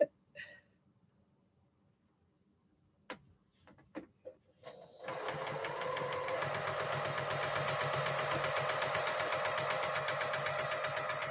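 A sewing machine stitches a quilt top: after a few scattered clicks and handling noises, the motor starts and runs in a steady, rapid, close mechanical chatter for the last six seconds.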